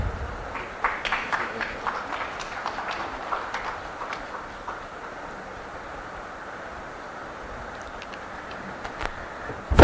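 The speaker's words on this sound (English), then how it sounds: "Please keep it going. It would be nice to hear all of you cheer for our winners." Audience at an AI healthcare summit award ceremony applauding and cheering for the winners, steady crowd clapping that peaks early and fades to a softer patter.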